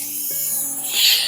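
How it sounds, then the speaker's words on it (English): A short hiss of a penetrating oil aerosol can spraying on the front strut of a 2010 Dodge Caravan, steady for a moment and then swelling a little louder near the end. "spray a little stuff on there too"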